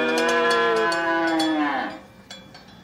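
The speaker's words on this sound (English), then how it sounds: "Right, it's a cow." A single cow moos in one long, loud, drawn-out call lasting nearly two seconds before trailing off into quiet.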